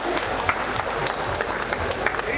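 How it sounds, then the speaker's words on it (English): An audience at a fireside chat claps enthusiastically in a dense, continuous burst of applause, with a few louder claps popping out. "Big round of applause to these guys there."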